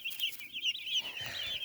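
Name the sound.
day-old White Rock meat chicks peeping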